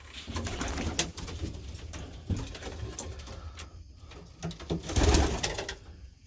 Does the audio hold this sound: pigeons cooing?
yes